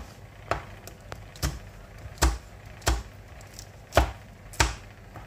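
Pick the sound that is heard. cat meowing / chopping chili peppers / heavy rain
chopping chili peppers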